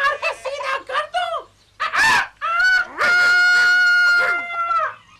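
A rooster crows loudly and close by in a dramatized scene, a series of harsh honking calls followed by a long drawn-out crow held for about two seconds before cutting off.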